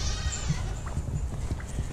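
A goat bleats on a small homestead farm, a couple of faint, short cries rising over low background rustle and noise.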